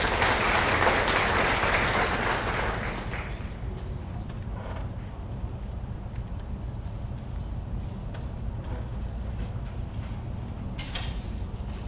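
Applause for award recipients at a high school senior awards ceremony, loud and dense at first, then thinning to a lighter sustained clapping from the crowd.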